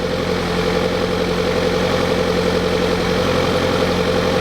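A Hillman Hunter GLS engine fitted with a Weber DCOE carburetor idles steadily while warming up, a loud, continuous close-up rumble with a regular throb and no talk.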